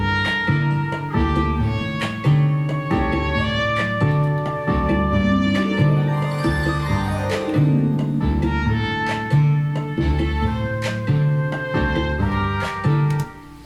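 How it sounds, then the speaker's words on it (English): Orchestral music plays with a sweeping harp glissando rising and falling through the middle, while light shimmering chimes sparkle above the steady ensemble. "So I came up with a little harp glissando and some wind chimes playing in the percussion as well."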